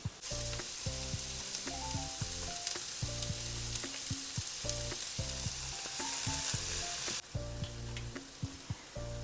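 Onion and potato for a Spanish omelette frying in a pan on lowered heat, salted and stirred, with a steady close sizzle broken by repeated scraping and clinking of the spoon against the pan.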